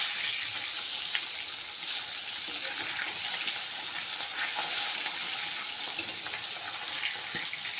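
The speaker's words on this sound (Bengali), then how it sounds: "মাছের এক পিস ভাজা হয়ে গেছে," Fish pieces fry in mustard oil with a steady, close hiss and crackle that runs throughout, with a few soft clicks as the pieces are flipped and no talking.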